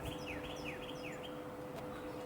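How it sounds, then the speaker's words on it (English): Small birds at backyard feeders give repeated high chirps and short downward-sweeping calls, about three in a row, over a steady low outdoor hum. "as we explore our backyard bird feeders"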